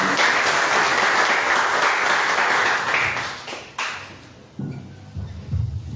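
A church congregation claps hard to welcome a woman preacher to a Portuguese-language worship service. Sustained crowd applause fades out after a few seconds, followed by a few scattered thuds and handling noises in the quieter room.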